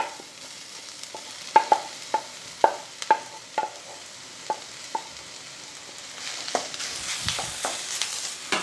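A spoon scrapes and knocks against a pan as mashed potato is stirred into a sizzling masala for Malabar bonda, giving a run of sharp taps followed by softer, squelchy mixing over a low fry.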